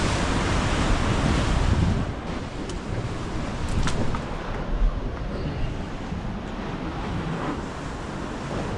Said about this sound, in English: You can't even imagine how strong waves and storms can be here